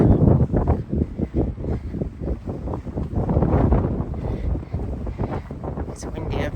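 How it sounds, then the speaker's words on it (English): Strong gusting wind buffets the microphone in rough, uneven bursts on the snowy summit of Clingmans Dome in the Smoky Mountains, loud and close throughout, with a voice speaking briefly near the end. "It's windy up here."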